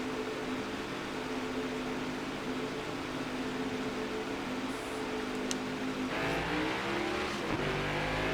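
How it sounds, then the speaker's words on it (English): A Next Gen NASCAR stock car in the NASCAR Heat 5 video game, engine droning steadily at a constant pitch, then surging and rising as it accelerates near the end, with no voices. "The sound of these things accelerating is really good, I like that."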